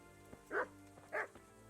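A dog in the medieval role-playing video game Kingdom Come: Deliverance gives two short, separate barks about half a second apart. They sound close but quiet over a faint, steady background hum.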